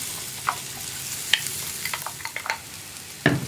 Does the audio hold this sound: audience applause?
no